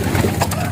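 Pigeons cooing up close in a coop, a steady low rolling coo running through the whole short moment with no voices over it.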